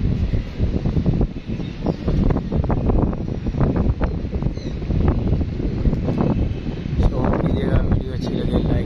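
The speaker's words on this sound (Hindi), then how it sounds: "हवा चल रही है बड़ी तेज है" Strong wind buffets the microphone with heavy, steady rumbling gusts throughout while pigeons are out, and voices can be heard faintly underneath.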